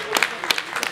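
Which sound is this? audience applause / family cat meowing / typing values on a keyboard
audience applause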